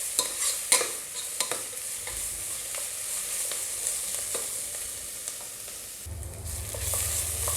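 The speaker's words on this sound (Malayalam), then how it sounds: "സവാള ഒരു ബ്രൗൺ കളറാകുന്നത് വരെ നമുക്ക് നന്നായി വഴറ്റണം" Onions sauté over a medium flame until browned for a Kerala-style egg curry, a steady frying sizzle broken by regular spatula scrapes, with a low hum joining near the end.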